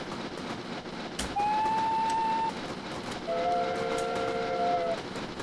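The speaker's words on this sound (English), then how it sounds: "Can't decide which whistle I prefer more." Steam locomotive whistle in Train Simulator 2020 on the Dolbadarn Lake route, sounding two separate blasts, first a single-tone whistle then a longer two-tone chord, loud over steady rolling rail noise.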